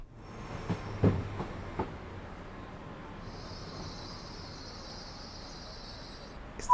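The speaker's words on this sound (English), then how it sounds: "It's that brake noise that's just so distinctive in this." Train brakes on a diesel unit in Train Sim World 5 at Redruth on the West Cornwall line: a quiet rumbling carriage interior with a few faint clicks early on, then a steady high whine that persists to the end.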